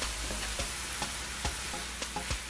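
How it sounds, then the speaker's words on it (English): A sweet potato filling is stirred in a pan with a spoon, giving a soft, even sizzle with periodic scraping knocks roughly every half second, close and moderately quiet, no voices. "you just want to stir it until the flavor is released"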